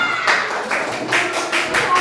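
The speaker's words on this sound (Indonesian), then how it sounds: "Tepuk tangan" A classroom of students claps for a student group, a short, steady round of moderate applause with a slightly uneven rhythm throughout.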